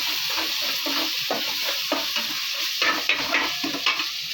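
Brinjal curry frying in oil, giving a steady close sizzle with a soft rhythmic stirring scrape running through it, no talking.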